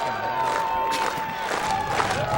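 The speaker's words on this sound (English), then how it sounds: "Fans on their feet. Players telling the crowd to make some noise here." A football crowd at a 1998 Buena Vista vs William Penn game cheers and shouts loudly on fourth down near the goal line, a continuous roar of fans on their feet with whistles rising above it.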